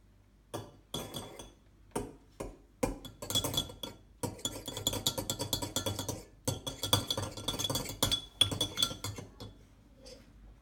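A cracked egg is whisked in a bowl for a pancake batter, with quick bursts of metallic clinks and taps of utensil against the dish, some pauses between strokes, close and fairly quiet.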